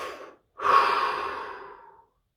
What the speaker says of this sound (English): and release. Take a deep breath.